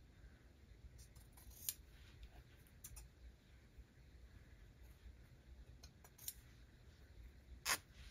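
Scissors cut a small square from fabric for a junk journal page, giving a few soft, sparse snips spaced across an otherwise quiet background.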